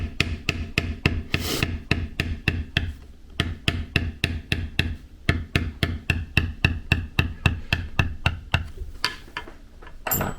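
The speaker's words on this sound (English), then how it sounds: "Grab a little longer beveler here for these longer, straighter cuts," A metal beveler tapped along long straight cuts in leather, struck by a mallet in a steady, evenly spaced rhythm of sharp, close knocks that keeps going with only short pauses.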